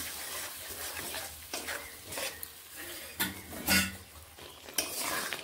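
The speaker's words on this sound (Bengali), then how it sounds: "মশলা দিয়ে মশলাটিকে এইভাবে টমেটোর সঙ্গে নেড়ে নিচ্ছি" A spoon scrapes and stirs spice paste with tomato in a pan for a pabda fish curry, giving a run of uneven clattering strokes against a faint sizzle, close and moderately loud, with no voices.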